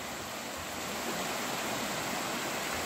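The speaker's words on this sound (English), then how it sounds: "we are taking a stop for a waterfall" A waterfall beside tea plantations in Munnar, Kerala makes a steady, even rush of falling water that runs through the whole short stretch.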